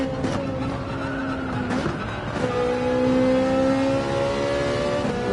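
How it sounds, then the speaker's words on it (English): Race car in Gran Turismo 7 at Laguna Seca braking and downshifting, loud engine tone dropping in stepped pitch shifts with sharp blips between gears, running close and continuous. "Quick little tap the brakes and a downshift."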